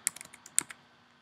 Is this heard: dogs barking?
no